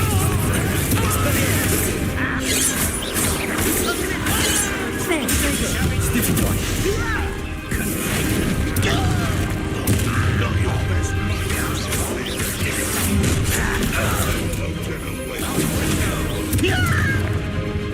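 Confringo fire spells blasting during combat in Hogwarts Legacy, a string of loud crashing impacts and bursts over a busy battle soundscape with music, continuous and close.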